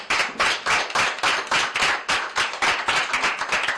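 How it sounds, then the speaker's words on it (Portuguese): Rhythmic clapping for photography contest winners at an award ceremony, loud and close, with sharp regular bursts of hands in unison and no talk. "peço mais uma vez uma salva de palmas aos premiados e também à Soca"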